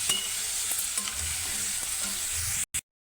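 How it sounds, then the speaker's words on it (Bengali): Goat tripe stirred and fried in a pan with salt and turmeric, a steady close sizzle with occasional scraping stirs, cut off abruptly near the end, no voices. "হলুদ দিয়া ভালো করে এখন নাড়াচাড়া নিই"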